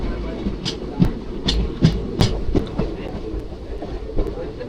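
A train rolling along the tracks past open farm fields near Palakkad, with rhythmic clicks and clacks over a low rumble and some background talk.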